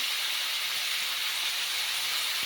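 Ivy gourd pieces fry in hot oil, giving a steady, even hiss that holds without break, close and moderately loud with no voices over it.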